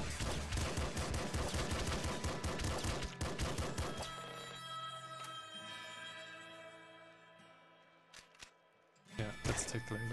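Rapid bursts of video game gunfire from Nuclear Throne, dense and loud for about four seconds, then a sustained tone with sparse shots, ending in a final burst; speech-like game sounds mix in.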